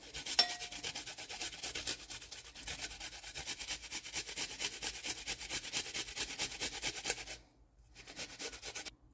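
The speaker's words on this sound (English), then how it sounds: "I'm going to grate about 5 cloves of garlic" Garlic cloves are grated on a small grater, producing a quick, rhythmic scratchy rasp of rapid strokes close by, running steadily before a brief pause and a few more strokes.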